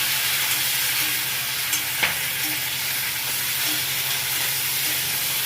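Small brinjals and garlic sautéing in hot oil for ennai kathirikkai kuzhambu, a loud continuous sizzle with occasional spoon taps and stirring knocks, close up and without speech.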